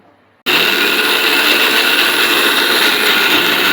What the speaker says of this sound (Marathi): वाटण थंड करून घेतलेलं आहे आणि आता मिक्सरला लावून घेत आहे